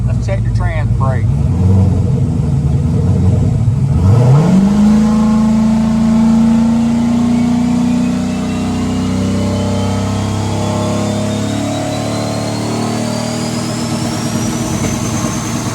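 A turbocharged drag car engine runs steadily at operating temperature, a loud close rumble that swells briefly as it revs, then settles into a sustained drone with a rising whine over it.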